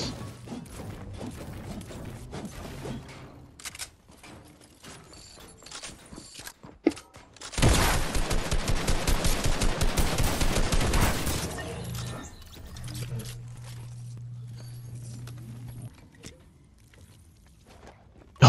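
Rapid gunfire from a video game bursts in a dense, loud volley lasting several seconds, preceded and followed by scattered lighter shots and game sounds.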